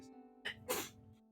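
A single sneeze from someone across a room, a sharp burst rising out of a steady low background hum, then fading back into the hum.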